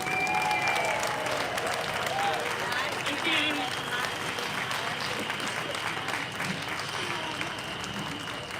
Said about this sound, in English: give a massive round of applause for Marlene Halliday